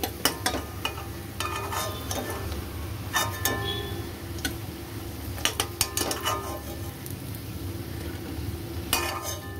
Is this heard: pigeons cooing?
no